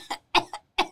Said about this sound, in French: elle a fait m'tousser